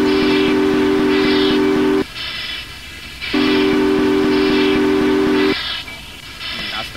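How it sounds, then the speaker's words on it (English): A steam locomotive whistle sounds in the Trainz railway simulator, two long, loud, steady blasts separated by a short pause, with a third beginning at the end, over low chuffing rumble. "But before we depart, quick whistle."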